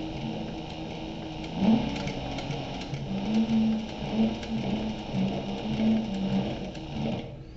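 A sewing machine stitches a slim belt bag (fanny pack) in a steady, continuous motor whir, with the needle running in short bursts and brief pauses near the end.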